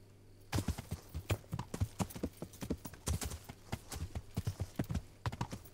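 Steady clip-clop of horse hooves at a trotting rhythm in the video game Kingdom Come: Deliverance, fairly close and clear, with a low hum underneath and no talking.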